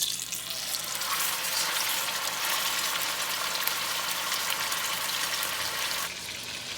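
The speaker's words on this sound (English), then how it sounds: "I'm going to sear both sides of the beef" Beef searing in oil in a pan makes a dense, continuous hiss that holds steady for several seconds, then drops suddenly to a quieter level near the end, with no talking.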